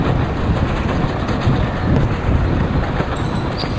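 A train runs steadily in the Indian Train Simulator mobile game, a continuous loud rolling rumble with wind-like rushing noise and faint track clatter, no voices.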